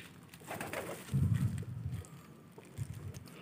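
Pigeons coo in low, throaty bursts, one longer rolling call followed by a shorter one, close by with faint background noise.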